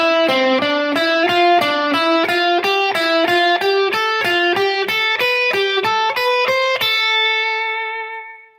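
Electric guitar through distortion runs a scale sequence exercise: roughly twenty evenly spaced picked notes stepping up and down in a steady rhythm, loud and close, then a final note ringing out and fading.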